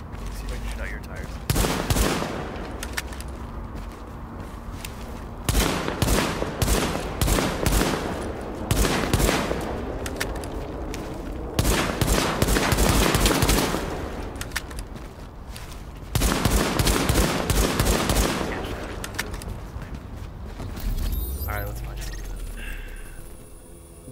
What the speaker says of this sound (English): Let's see if I can shoot out your tires.